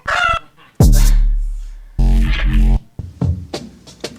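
Chicken sound samples are triggered one after another in Ableton Live: loud clucks, a long crowing rooster call, and more squawks, each burst separated by short silences.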